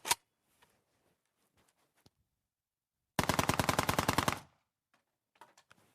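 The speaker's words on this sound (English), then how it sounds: "when it comes to firing it automatic, you find it very hard to control" A Kalashnikov AK-47 rifle fires on full automatic in a loud, rapid burst of about a dozen sharp shots lasting just over a second. A single isolated shot and faint clicks come before and after it.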